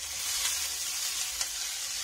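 Carrots, cabbage and green peas sauté in a hot pan with a steady, close crackling sizzle and a few brief stirring scrapes, no voices.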